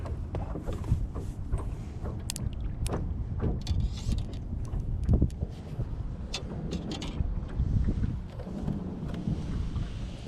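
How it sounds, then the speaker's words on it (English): Strong wind buffets a boat out on a lake during crappie trolling, a loud continuous roar of gusts and microphone rumble with scattered knocks and splashes throughout. "this wind is just tearing everything up"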